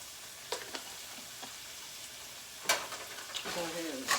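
Quiet sizzling of a shrimp curry in a pan, interrupted by scattered utensil scrapes and clinks as it is stirred, with a faint voice briefly near the end.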